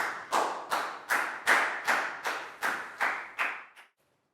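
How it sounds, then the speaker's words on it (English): A primary school class claps for a student in a slow, even rhythm of about ten sharp, unison claps, fairly close and alone, ending abruptly. "High five, big round of applause for Dan, guys."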